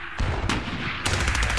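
Cannon in the Klotzen Toledo strategy game fire at enemy units in loud, close booming blasts, three heavy shots in quick succession with rattling gunfire between them.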